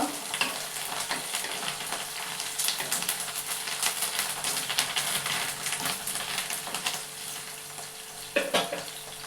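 Two sprigs of fresh curry leaves sizzle in hot oil for a tomato and green chili chutney, giving a steady, loud, crackling hiss with small pops throughout and no talking.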